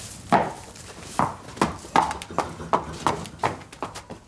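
A horse steps along at a steady pace, giving about ten distinct hoof thuds in an even rhythm. The steps sound close and moderately loud, with no talking.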